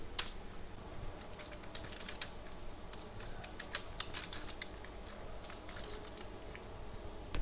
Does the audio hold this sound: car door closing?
no